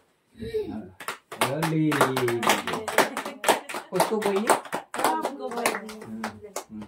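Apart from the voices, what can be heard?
family clapping hands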